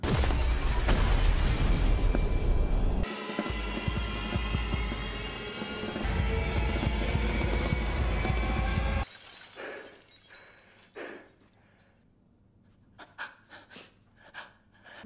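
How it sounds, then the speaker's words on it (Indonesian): Glass shatters loudly in a Squid Game scene and its fragments fly through the air. A long, dense crashing burst gives way to scattered tinkling debris and heavy breathing. "Tepat pada waktu habis, kaca menjadi pecah dan terbang ke udara"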